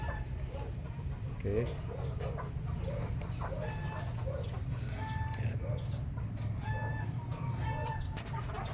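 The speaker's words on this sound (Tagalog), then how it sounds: "Ito yung manok natin." Native chickens on a small farm cluck and murmur nearby in short repeated calls, with a rooster-like crow partway through, over steady farmyard background noise; a person briefly speaks.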